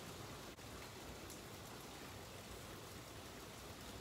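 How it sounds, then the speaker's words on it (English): Heavy rain pours down outdoors as a steady, dense hiss with no breaks, moderately loud and unchanging. It is heard from indoors, with no voices present. "The rain is really and truly coming down out there."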